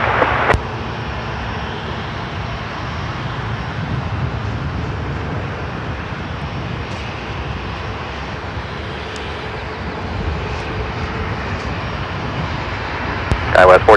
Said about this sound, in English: Lufthansa 491 Heavy, runway 34 right, cleared for takeoff, wind 280 at Niner.